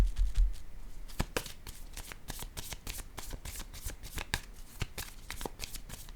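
Tarot cards being shuffled by hand in a quiet room, a steady run of crisp riffling snaps and slides throughout, close and fairly loud with no talking.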